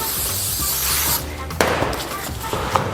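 Cooking spray hisses in a short burst onto hands while making Rice Krispie treats at home, followed by a few sharp crackling clicks, close and fairly loud.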